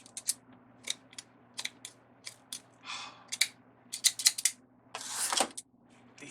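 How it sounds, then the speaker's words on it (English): Scissors cutting ribbon for a farmhouse deco mesh wreath: a series of sharp, close snips in an uneven rhythm, with a longer rasping slide of the blades partway through and a louder rustling cut near the end. "These scissors, y'all."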